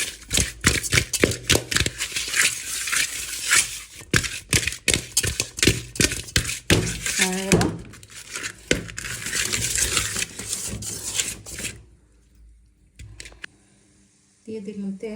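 Raw hilsa fish pieces worked by hand with turmeric, chili and salt in a bowl: a dense run of close wet clicks, squelches and taps that stops abruptly near the end, leaving faint scattered handling.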